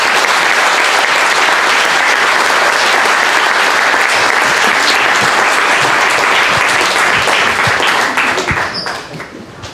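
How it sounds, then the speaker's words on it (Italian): A large audience bursts into loud, sustained applause welcoming Undersecretary Sandro Volpi at a political gathering, a dense roar of clapping that holds steady for several seconds before thinning and fading out near the end. "vi chiederei di fare un grande applauso di benvenuto all'onorevole sottosegretario Sandro Volpi"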